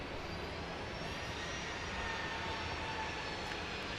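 A Southwest 737 jet airliner roars steadily at Dallas Love Field at night, a broad, even engine rush that stays constant throughout with no voices over it.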